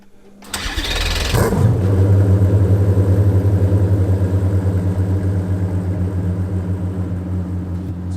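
A Koenigsegg Jesko engine starts with a sudden loud burst, then settles into a steady, close, rumbling idle with a slight rhythmic pulse. There is no talking.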